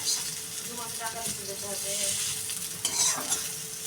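Eggplant slices frying in oil in a kadai with a slit green chili, a steady sizzle with clinking stirring sounds running throughout, loud and close.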